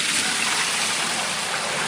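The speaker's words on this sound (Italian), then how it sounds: "In pratica togliamo l'acqua, rimane il formaggio." Liquid whey pours off fresh curd through a strainer during cheesemaking, a steady broadband splashing gush that runs loud and continuous with no speech over it.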